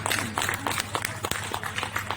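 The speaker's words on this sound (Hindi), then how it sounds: "खुल के तालियां बजाइए ना" Dense, steady clapping from a crowd at a poetry recital at a book fair fills the space, a continuous patter of many hands without pause.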